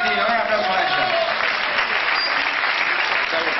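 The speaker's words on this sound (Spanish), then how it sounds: "Un gran aplauso para ellos." An audience at a tango academy competition breaks into sustained applause for a dancing couple, dense even clapping filling the room and carrying on for several seconds at close range.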